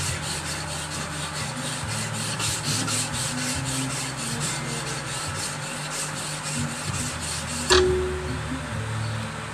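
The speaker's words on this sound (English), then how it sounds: "It's wet sanding, so yeah, I think it does compound the grit when you wet sand." Hand wet sanding produces a steady rhythmic rubbing and scraping with repeated back-and-forth strokes that continue throughout, close up, with a sharp knock near the end and no talking.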